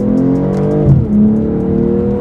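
All-wheel drive car accelerating with a loud, close engine drone that climbs in pitch, drops briefly at a paddle-shifted gear change, then climbs again.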